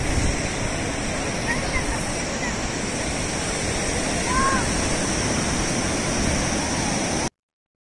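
Sea waves along the eroding Uppada coast, a steady broadband surf roar with wind noise on the microphone, continuous and fairly even for several seconds before cutting off.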